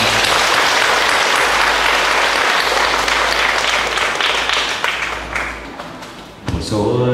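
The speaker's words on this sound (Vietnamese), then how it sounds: "xin biểu lộ lòng cảm ơn bằng một tràng pháo tay thật lớn" A large congregation at an outdoor memorial mass in a Catholic parish cemetery breaks into sustained, loud applause that slowly thins and fades, ending with a brief voice and thump.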